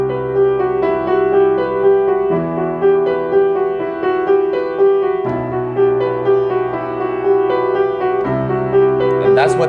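Piano playing a song: four sustained chords doubled in octaves, changing roughly every two to three seconds in a steady, slow cycle, loud and alone with no voice over it.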